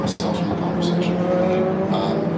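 Race cars pass by on a track corner, a loud steady engine roar with rising and falling pitch lasting throughout, with people talking over it.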